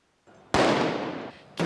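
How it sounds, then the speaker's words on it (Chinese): Paris Saint-Germain fans celebrating a Champions League title set off fireworks and flares in the street: a faint crackle, then a sharp loud bang with a long hissing tail, followed by another sudden burst. "球迷放烟火、照光弹"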